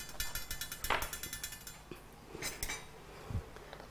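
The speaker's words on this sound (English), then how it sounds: "it's flour on a pan. And yes, it will stick, but it won't stick tremendously. So we're going to keep mixing it." Flour being stirred in a dry pan without oil makes light scraping and clinking sounds from the utensil against the metal, with soft irregular taps and rasps, quiet and close, and no one speaking.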